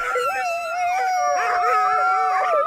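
Greenland sled dogs howl together in a sustained chorus of overlapping wavering tones before feeding, loud and close, with several voices rising and falling throughout.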